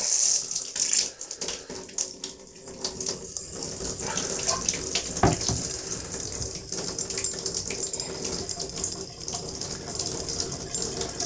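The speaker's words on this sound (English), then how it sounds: "All right, I have hot water coming out of this." Hot water runs steadily from a mixer tap in an off-grid plumbing setup, a close, continuous splashing rush that flows on without pause.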